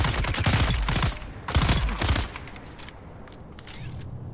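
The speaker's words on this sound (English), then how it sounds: "Yeah, this gun's pretty strong." Bursts of rapid gunfire from a weapon in the video game Dune Awakening, several close, punchy volleys in the first half that give way to quieter scattered shots and ambient game sound.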